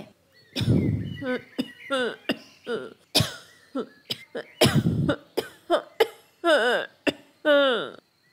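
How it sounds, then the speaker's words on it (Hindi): A cartoon character coughs repeatedly through the night after eating raw, sour oranges, with harsh bursts of coughing and throat clearing interspersed with short voiced sounds. "वो सारी रात खांसी करता रहता है"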